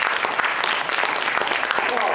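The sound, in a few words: audience applause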